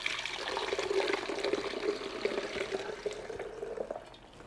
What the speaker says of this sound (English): We're going to strain the juices to make our sauce. As always, pour away from you.